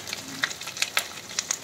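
Grated coconut frying in hot mustard oil, a close hiss with a few short, crisp spatters and stirring scrapes spread through it.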